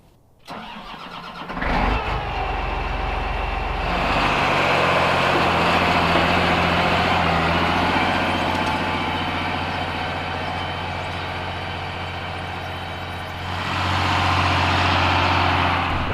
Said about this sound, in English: I'm working on marking the field now using the tractor and a marker built on the back.